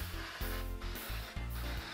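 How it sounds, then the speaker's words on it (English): Aerosol spray adhesive applied to the back of fabric inside an old flower box, several short close hissing bursts separated by brief pauses. "take the spray adhesive"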